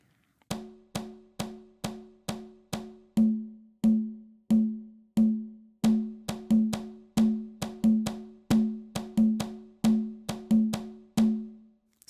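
A percussive rhythm of short, sharp clicks with a steady quarter-note pulse layered against a dotted-quarter pattern, forming an interlocking 3-against-2 feel; clear and isolated, each hit decaying quickly.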